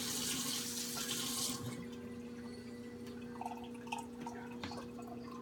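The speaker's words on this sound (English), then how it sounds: "now you're going to pour this in the measuring cup" Liquid poured carefully into a measuring cup during a coffee grind absorbance experiment, a brief splashing, trickling pour over the first second and a half, then quieter drips and small clinks against a steady background hum.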